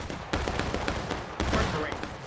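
Volleys of video-game gunfire in a multiplayer match on the Piper Farm map, sharp broadband cracks arriving in clustered bursts about every half second, loud and close with faint voices underneath.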